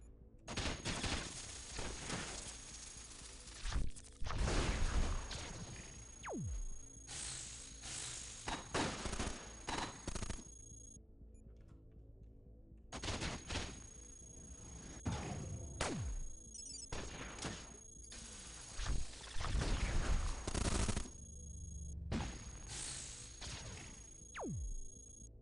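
Missiles launching and exploding in the video game Cogmind, with repeated bursts of sharp blasts and rumbling booms in clusters, separated by brief quiet gaps, loud and with no talking.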